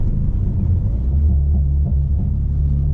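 Boosted Honda Accord pulling in second gear, a loud, close, deep engine rumble with a steady throbbing drone that holds for a few seconds.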